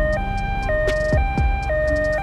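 A two-tone ambulance siren alternates steadily between high and low pitches, loud and close, with a brief whooshing pass in the middle.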